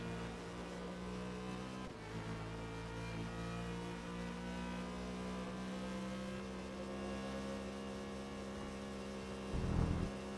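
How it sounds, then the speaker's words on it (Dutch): Racing-game car engine in GRID 2019 with a rough-sounding motor, a steady droning hum with layered tones held throughout, swelling briefly louder near the end, no talk. "Oh, mijn motor klinkt weer brak."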